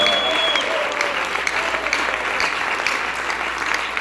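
A church congregation claps during a pastor's sermon, a steady, full wash of many hands clapping that holds at a constant level from start to finish, with faint voices beneath.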